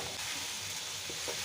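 Tomato masala for arvi curry fries and gets stirred in a pan, a dense steady hiss of sizzling with faint spoon movements, close and even throughout.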